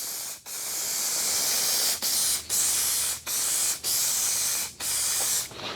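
Metallic spray paint hisses from aerosol cans onto a damaged car panel in a run of steady bursts, each cut by a brief pause, with the last one short; close and fairly loud, with no voices.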